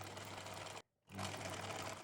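A sewing machine stitches a scrunchie seam in a fast, whirring run, stops for a brief pause, then resumes at the same steady pace.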